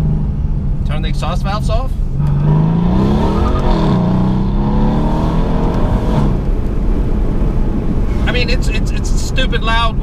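A Mercedes-AMG C63 engine with exhaust valves closed revs loudly and close, rising and falling in pitch with a deep rumbling exhaust, and brief voices at the start and end.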